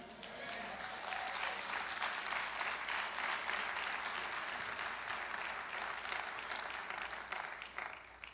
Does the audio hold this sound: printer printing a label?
no